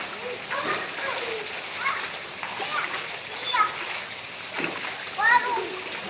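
A child splashes water while swimming in a pool, with repeated splashes and sloshing mixed with a voice and excited chatter throughout.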